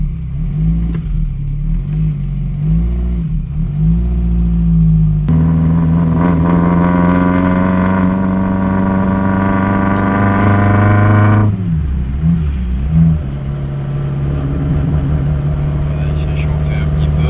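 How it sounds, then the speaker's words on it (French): A 1964 René Bonnet French sports car engine runs loudly, idling at first, then revving hard and pulling away with rising pitch before settling back, with a voice speaking over it. "Voilà ce que c'était une voiture de sport en 1964. Française, hein."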